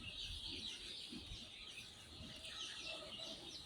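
Chickens of four breeds kept in an indoor hatchery, clucking faintly and indistinctly beneath a steady hiss of room and machine noise.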